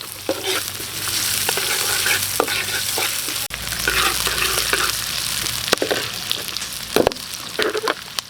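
Ginger, garlic and plenty of onions sauté for beef menudo in a steady close sizzle, broken by repeated scraping stirs and clacks of a utensil against the pan.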